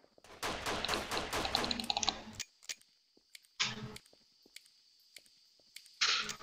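Gunfire from a Colt SAA cowboy pistol in the Action Source video game: a dense, rapid burst of shots, then scattered single cracks and short pops separated by near silence.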